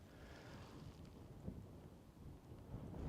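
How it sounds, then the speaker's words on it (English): Thunder rolls during an outdoor thunderstorm while hiking in northern New Mexico, a low, muffled rumble building beneath gusty wind noise on the microphone, distant rather than a sharp close crack. "Oh, there were a right flash of lightning and good crack of thunder there."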